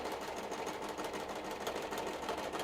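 A sewing machine steadily stitches cosplay fabric for a Gale of Waterdeep costume, a continuous close, even mechanical whir with fine rapid rattle throughout, no voices.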